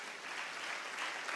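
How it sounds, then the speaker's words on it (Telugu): Steady, dense applause from a church congregation honoring volunteers, even and continuous without a break, moderately loud. "ఒకసారి వీరి కొరకు చప్పట్లు కొడదామా?"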